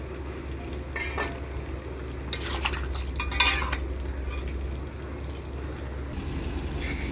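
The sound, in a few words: covering pot of mutton with lid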